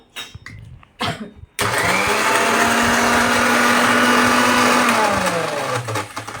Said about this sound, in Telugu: అల్లం ఉంది కదా, అది మిక్సీ పడుతున్నా.